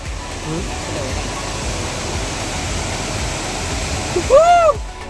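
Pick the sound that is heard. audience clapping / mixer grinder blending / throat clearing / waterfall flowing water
waterfall flowing water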